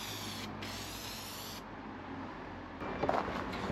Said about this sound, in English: it's basically a contact adhesive. You spray it on both sides